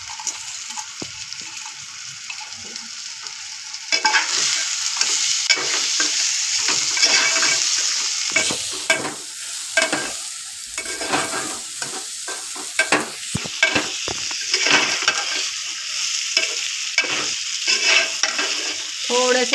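Washed moong dal and rice stirred in a pan with a spoon scraping and shuffling in bursts over a soft sizzle, close and steady, with no talking.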